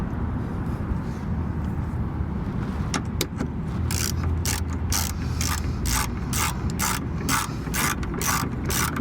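A hand ratchet clicks in quick repeated strokes while tightening the rear sway bar bracket bolts on a Honda Civic, a rhythmic, close series of sharp clicks that starts partway in over a background hum.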